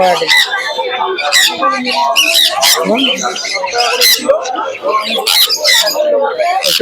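Budgerigars at a bird market make a busy, loud chorus of chattering chirps and squawks, many birds calling at once and close by, filling the whole stretch without pause.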